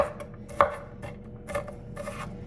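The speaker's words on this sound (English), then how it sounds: "You got to chop your veg the way you like to eat it" Knife chopping vegetables finely on a board for salads and a chickpea mix, heard as a quick run of close, soft taps with one sharper knock, all without talk.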